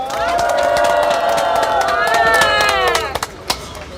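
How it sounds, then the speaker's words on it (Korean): Applause of thanks rises from attendees at a Daegu press conference, a dense, steady patter of clapping that holds for about three seconds, then breaks into a few scattered final claps. "감사의 박수 올리겠습니다"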